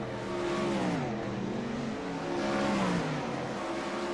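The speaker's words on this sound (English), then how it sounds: "That car back under power." A race car from a Spike Chassis Series race at Lanier raceway accelerates back under power, its engine note rising and falling through repeated revving sweeps, loud and fairly close, with no talk.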